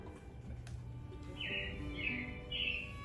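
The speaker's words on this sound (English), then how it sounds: "It looks like the robins are getting ready to celebrate Valentine's Day today" Robins chirping in Disney's Carousel of Progress show, heard as three faint, short chirps repeated at a steady pace over a hum of indoor background noise.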